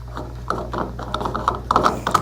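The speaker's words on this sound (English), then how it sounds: "Let's go out and put our gas cap back on." Clicking of a gas cap being screwed back onto a Chevy K1500 pickup truck after a fuel filter replacement, a series of small ratchet clicks, close and fairly distinct.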